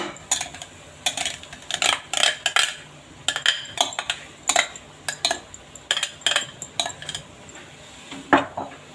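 Mashed potatoes are stirred into roasted chicken in a metal pan, giving repeated scraping and clinking of a spoon against the pan in an irregular, busy rhythm, close and fairly loud.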